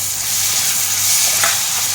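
Tomato and green chili with curry leaves sauté in a hot pan for squid curry, giving a loud, continuous near hiss with a few soft stirring scrapes and no voices.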